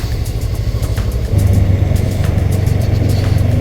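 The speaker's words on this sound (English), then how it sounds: "Some serious traffic in Peckham tonight." Heavy road traffic on a Peckham street at night, heard from a scooter or motorcycle: a steady, loud low rumble of engines that swells and thickens partway through, with no talk.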